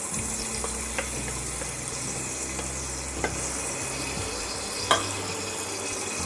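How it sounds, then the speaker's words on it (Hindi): Half a medium onion frying in a pan over a low-to-medium gas flame for dhaba-style urad dal, a steady close sizzle with a few sharp spatula taps and scrapes, no talk. "बस हल्का सा उसका कच्चापन निकल जाए उतना ही प्याज को भूनना है।"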